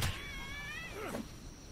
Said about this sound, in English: Gonna punch this cat out.